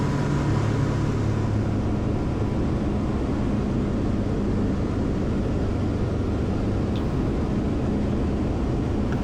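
A steady, close engine drone fills the cockpit of a light aircraft in flight on the way to the National STOL 2025 event at Sulphur Springs, Texas, with no changes in pitch and no voices.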